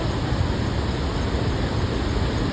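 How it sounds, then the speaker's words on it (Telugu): Floodwater of an overflowing river in Kamareddy rushes past as a dense, constant roar, loud and unbroken from start to finish with no voices. "ఇది ఫ్లో ఇక్కడ నుంచి ఇలా పారుతూ వెళ్తుంది"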